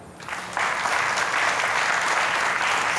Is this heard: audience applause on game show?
yes